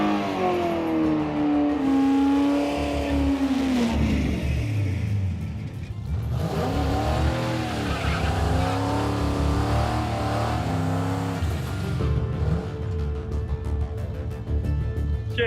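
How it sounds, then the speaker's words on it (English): A drag car doing a burnout at a drag strip before staging, engine revving loud and continuous with rising and falling pitch, a steady broadband roar that fits tire squeal and smoke, sustained throughout. "All right, we're gonna do a burnout now."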